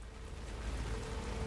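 Steady rain falls in the rainy outdoor setting of the Alan Wake 2 video game, an even, soft wash of hiss that stays constant throughout with no voices.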